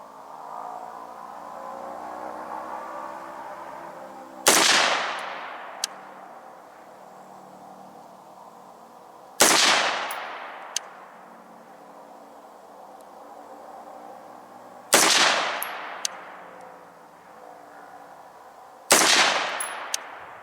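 Four loud, sharp rifle shots at an outdoor shooting range, spaced roughly five seconds apart, each followed by a short echoing decay, with a faint background hum between them.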